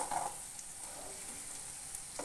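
Pepper chicken frying in a pan at home, a faint, steady hiss of sizzling oil with a few soft crackles, close and without talk.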